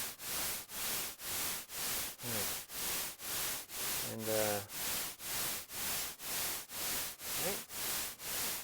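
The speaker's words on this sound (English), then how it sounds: "I think it'll be the white noise getting louder and softer." SuperCollider-generated hissing white noise swells and fades in a steady, even pulse, about two surges each second, with a brief spoken word heard once.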